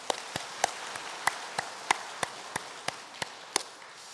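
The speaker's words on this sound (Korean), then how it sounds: "박수 한번 하겠습니다." Sparse, slow applause from a small church congregation during a Sunday worship service at Sinan Church, about a dozen separate distinct claps spaced evenly, faint and somewhat distant over a quiet hiss, with no talking.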